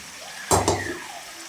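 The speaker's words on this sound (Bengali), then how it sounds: "আর এর মধ্যে এখন গরম জল দিয়ে দেবো।" Hot water splashes into a cooking pot holding potatoes for a potato rezala curry, one brief sharp pour with a second smaller slosh, fairly close and alone.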